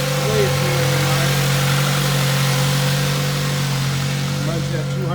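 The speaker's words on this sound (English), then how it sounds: "Exhaust sounds pretty good for just having a fake tip on it." A car with about 230,000 miles on it and a fake exhaust tip idles steadily at an auction, its low, even engine drone continuous and fairly close, with voices talking over it.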